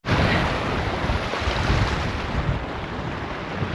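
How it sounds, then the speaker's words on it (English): River water rushes steadily at a hiking trail river crossing in the Swedish mountains near Blåhammaren, a dense, close, continuous roar mixed with wind buffeting the microphone, with no voices. "Another river crossing."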